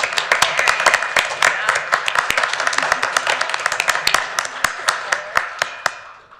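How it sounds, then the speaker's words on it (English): Scattered applause from a school board meeting audience honoring students, sharp individual claps rising and thinning over several seconds with a few voices mixed in. "please stand so we can give you a round of applause"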